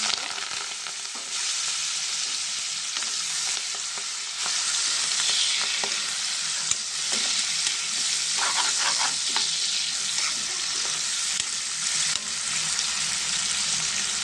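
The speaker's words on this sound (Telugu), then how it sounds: "ఇది కొంచెం ఫ్రై అవ్వాలి" Chopped onion, curry leaves and green chillies fry in a pan for a cucumber and dried fish tomato curry, giving a long, steady sizzle broken by occasional stirring clatter from a spoon, close and unvoiced.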